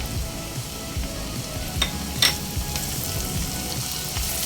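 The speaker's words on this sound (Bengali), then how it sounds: "এবার নেড়ে চেড়ে হালকা সোনালি রং ধরে আসা পর্যন্ত ভেজে নেব" Chopped onion fries in a pan with grated garlic and ginger, giving a steady, fairly quiet sizzle with a few sharp crackles and faint stirring scrapes throughout, no voices.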